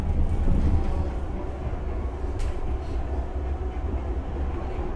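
A Kuala Lumpur MRT metro train rumbles steadily along the track. The low, continuous rolling hum is close and moderately loud, with faint rain or ambience and no clear talking.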